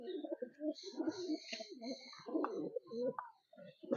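Pigeons coo in a loft during a sale of the whole flock. The soft, throaty calls overlap continuously and sound close, with faint voices in the background.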